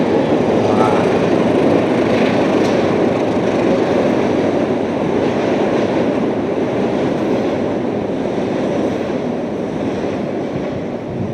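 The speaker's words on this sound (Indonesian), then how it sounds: "Wah, dapat momen kereta lewat teman-teman ya." A train rolls past at Kampung Warna Warni in Malang, a steady loud rumble of wheels and cars that holds close and even for the whole stretch, with no voices over it.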